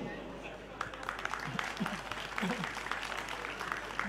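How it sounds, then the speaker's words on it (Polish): Applause from an audience at a family outdoor festival where a folk courtyard band plays, scattered clapping running steadily under a voice talking, with low hum throughout. "Były brawa."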